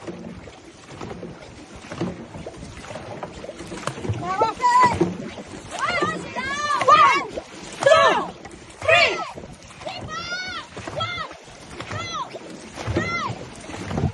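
Paddles dip and pull through water in a rhythmic, counted stroke pattern as a group rows a boat, with splashing under loud spoken coaching and chatter throughout.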